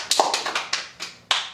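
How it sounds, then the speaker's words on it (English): Six quick hand claps in an uneven rhythm, close and fairly crisp, with short pauses between them and no talking. "Clap for yourself."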